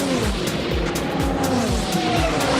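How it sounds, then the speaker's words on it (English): Mazda 787B rotary-engine race car at the 24 Hours of Le Mans, its loud, buzzing rotary howl continuous and close with repeated pitch sweeps through gear changes and tire squeal underneath. "Mazda 787B rotary engine"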